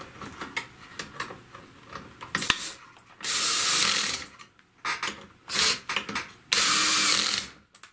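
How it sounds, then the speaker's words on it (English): A power driver runs in several bursts as screws are driven into the housing of a Kirby Sentria vacuum, whirring loudly for a second or so at a time between quieter clicks and handling noises, close by. "Now we're going to drive the 2 top screws home."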